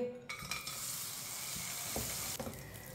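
Semolina (suji) roasting in a pan for egg suji halwa, a soft continuous sizzle with occasional scraping stirs, close and quiet.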